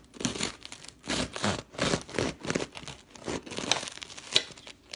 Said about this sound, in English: So I'm just gonna cut a piece right here.